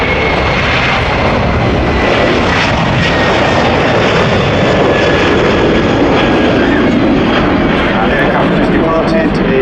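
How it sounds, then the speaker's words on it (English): Turkish Airlines A330 departing Manchester Airport, a loud, sustained broadband jet roar that stays steady throughout, with talking mixed in beneath it. "Departed is Turkish Airlines A330 Istanbul"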